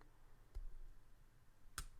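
Two quiet, crisp clicks about a second apart against faint background hiss, like a folding knife's detent releasing.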